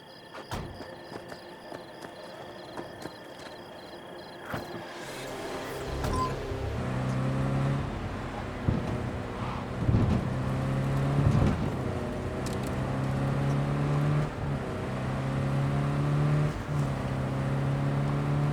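Engine hum of a car driving in Cyberpunk 2077, a steady low drone that rises and shifts through gear-like pitch changes, with scattered clunks and ambient city noise, and no one talking.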